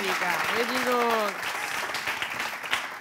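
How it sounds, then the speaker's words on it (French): An audience applauds during a live French-language show, with steady clapping throughout and someone talking over the first part. "Encouragez-moi avec des applaudissements"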